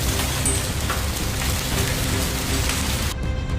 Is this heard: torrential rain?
yes